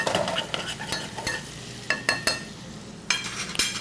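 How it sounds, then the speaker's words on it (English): Garlic stirred in a hot pan with a utensil, a soft sizzle under repeated scraping strokes that come in short bursts, close and fairly quiet, with no talking. "We're going to give that a stir so it doesn't stick."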